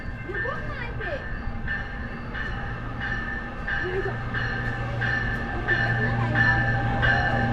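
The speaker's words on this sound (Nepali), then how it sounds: "फाइनल्ली ट्रेन पनि आयो" A train pulls into a station during a family holiday, a steady low rumble with sustained tonal hum and squeal rising slightly toward the end, while people talk nearby throughout.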